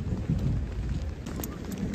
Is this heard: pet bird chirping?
no